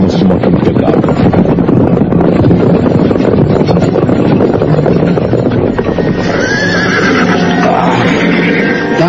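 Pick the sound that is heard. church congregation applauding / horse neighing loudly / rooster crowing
horse neighing loudly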